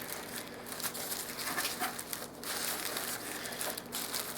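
Plastic and paper packaging from an eBay parcel being unwrapped, soft continuous crinkling and crumpling close by, with a few sharper rustles throughout.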